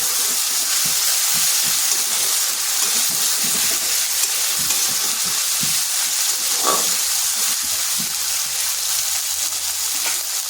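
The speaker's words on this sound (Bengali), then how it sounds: "এটাকে একটু ভেজে নিচ্ছি যাতে আদার কাঁচা গন্ধটা চলে যায়" Ginger garlic paste fries in a pan with a steady, continuous hiss and sizzle that stays close and even throughout, with no talking over it.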